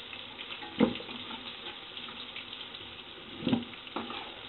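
Ginger, cumin and bay leaf sizzle in hot oil with a soft, low crackle, broken by two or three brief louder spitting bursts.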